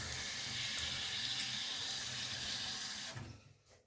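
Cold water runs steadily through a shower attachment with a water temperature sensor, a close, even hiss that cuts off near the end, with no talking.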